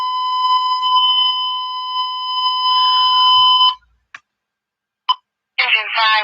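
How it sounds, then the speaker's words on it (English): Fire dispatch alert tone for an engine company going to a residential fire alarm, a loud steady multi-pitch electronic tone held for several seconds, then a couple of short clicks before radio speech begins. "Engine 5, residential fire alarm."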